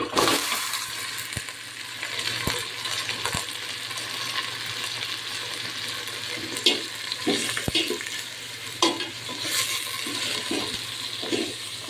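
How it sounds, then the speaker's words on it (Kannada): Half a kilo of mutton fries in a pan for mutton sambar, making a steady, moderate sizzle with occasional utensil clinks and stirring sounds, close and without voices. "ಇದು 5 ನಿಮಿಷ ಹಾಗೆ ಫ್ರೈ ಆಗಲಿ"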